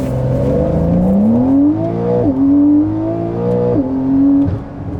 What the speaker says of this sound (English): give it half a second so we can spool the turbo, and then just let it rip